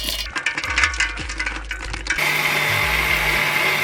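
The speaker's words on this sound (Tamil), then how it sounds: "பாதாம், ஏலக்காய் ரெண்டு மிக்ஸில் போட்டு நல்லா அரைச்சிருக்கோம்" A mixer grinder grinding almonds and cardamom whirs loudly; rattling pulses give way to a steady, high-pitched grinding hum.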